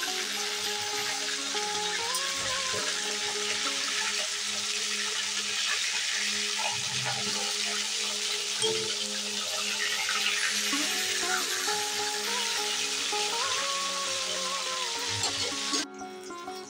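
Flipped tilapia fish keeps frying in hot mustard oil with a steady, broad sizzling hiss that stays fairly quiet and even, easing slightly right at the end. No speech.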